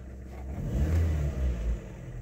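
A 2012 Ford Focus 1.6 petrol engine with fresh spark plugs idles, then revs quickly up and back down twice in a low, close rumble before settling again.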